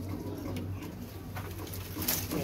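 Teddy pigeons coo softly and continuously, a low murmuring burble close by, with faint background noise and no talking.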